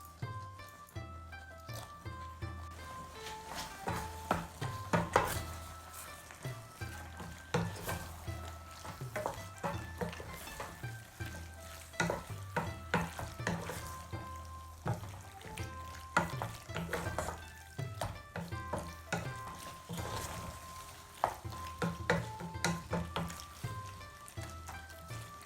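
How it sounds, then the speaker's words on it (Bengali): Boiled penne is stirred into sauce in a pan with a soft continuous sizzle and repeated scraping and clinking of the spoon against the pan, with no talking. "আমাদের পেন্নে মিক্স করা হয়ে গিয়েছে।"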